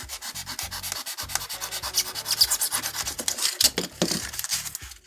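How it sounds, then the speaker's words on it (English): Hand trimming along the edges of a model stucco stair for tabletop gaming, a steady run of dry rubbing and scraping strokes, close and fairly loud, with no talk. "any place where it's standing proud or weird or doesn't match up, we're going to go ahead and trim those off."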